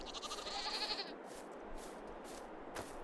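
Sheep bleat in a pasture in Farming Simulator 22, a wavering cry near the start followed by fainter calls over steady ambient game noise.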